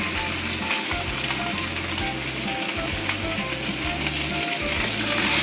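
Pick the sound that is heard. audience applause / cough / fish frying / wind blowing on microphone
fish frying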